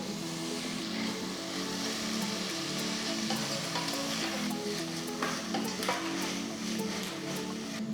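Steady, dense sizzling of tomatoes frying in a hot pan, with occasional light stirring scrapes and no talking.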